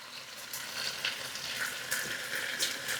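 Shiitake and vegetables hit a hot sukiyaki pan, giving a bright, continuous sizzle with small bursts of spitting fat, close and steady throughout with no voices.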